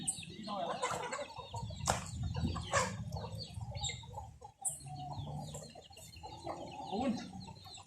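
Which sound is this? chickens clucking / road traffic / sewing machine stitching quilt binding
chickens clucking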